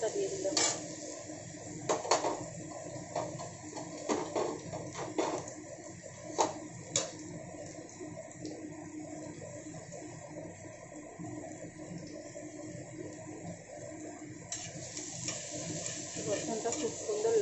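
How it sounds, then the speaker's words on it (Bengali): Garlic fries in a pan with fenugreek seeds for garlic chicken, a soft steady sizzle under repeated clinks and scrapes of a utensil stirring against the pan. The pan noise is moderately close and continues throughout. "রসুনটা খুব সুন্দর লাল লাল করে ভেজে নেব।"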